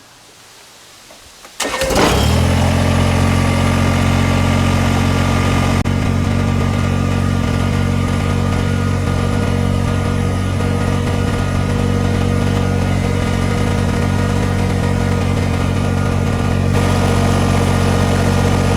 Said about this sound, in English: And I can start the tractor before I put on the positive.